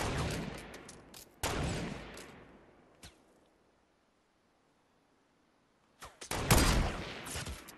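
Sniper rifle shots in the Fortnite battle royale game: two sharp, loud cracks with ringing decay, a faint click, a stretch of near silence, then another burst of firing at the end.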